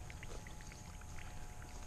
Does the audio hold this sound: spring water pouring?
yes